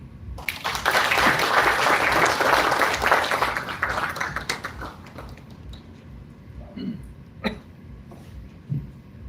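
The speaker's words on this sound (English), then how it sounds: "A very big round of applause for Madhav sir." Applause from an audience at a fintech lending event swells for a few seconds, then thins into scattered claps, coughs and small taps as the room settles.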